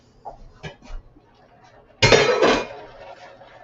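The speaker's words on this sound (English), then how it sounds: "Just gonna stir it a little bit." A spoon stirs collard greens in a metal pot, giving one loud, ringing clank and scrape after a couple of soft, faint knocks, then trailing off into quiet.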